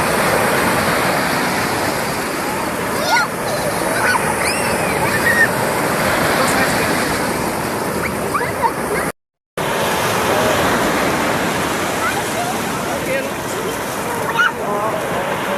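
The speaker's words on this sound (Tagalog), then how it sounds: "Kasi mupisik man ang dagat." Steady roar of storm-driven sea waves washing and splashing, broadband and constant, with faint voices now and then and a short gap midway.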